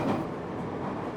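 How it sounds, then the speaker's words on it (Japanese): An Oito Line train runs through autumn countryside, a steady low rumble of wheels and cabin noise heard from inside the carriage, brief and continuous with no talk. "西名山湖を過ぎた列車は大町市から白馬村に入っていきます"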